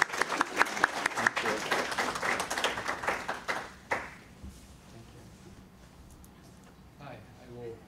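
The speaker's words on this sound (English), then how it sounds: "Sorry, Amy, yes, you can clap." An audience at a panel event on California political participation claps for about four seconds, a dense burst of applause that fades away, followed by quieter room sound and a voice speaking.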